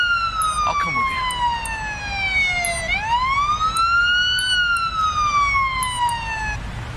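Wailing emergency siren from an ambulance in a police simulator video game, a loud continuous rising and falling tone with several harmonics sweeping down then back up, steady over the whole stretch with faint vehicle rumble beneath.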